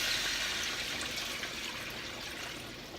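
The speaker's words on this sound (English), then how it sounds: "I'm gonna go ahead and add the water" Water is poured from nearby into a cooking pot of garlic, giving a continuous splashing, hissing rush that fades slightly toward the end.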